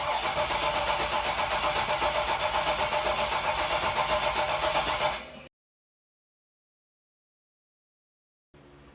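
A rebuilt LS V8 in an El Camino engine swap cranks over loudly and steadily for about five seconds during its first startup, then cuts out into silence before a brief burst of noise returns near the end.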